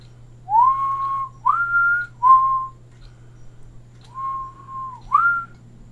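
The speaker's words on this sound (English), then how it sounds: "When you do the show by yourself and you run out of words, you have to whistle." A person whistles a short tune of five clear sustained notes, some sliding upward, alone over a steady low hum with no talking.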